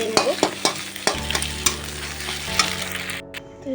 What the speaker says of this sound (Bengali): এই যে দুটো ডিম নিয়েছি, এই ডিম দুটো ভেজে নেব।